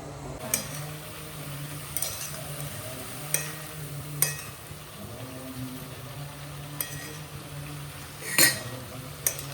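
Vegetables with oil and turmeric being stirred in a pan, with scattered utensil clinks and scrapes over a steady low kitchen hum, no talking.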